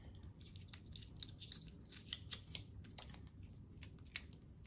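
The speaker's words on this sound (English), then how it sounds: "Little foil wrapper." A small foil wrapper on a Japanese snack crinkles and crackles in quick, sharp, uneven bursts, close up and fairly quiet, with no voices.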